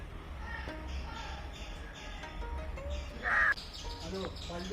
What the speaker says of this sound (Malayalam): ശ്രീരാജിന്റെ പറമ്പിൽ നിറയെ വൃക്ഷലതാദികളും പക്ഷികളും എല്ലാം ഉണ്ട് കേട്ടോ അവർ കളകൂജനങ്ങളൊക്കെ ഇതാ കേൾക്കുന്നു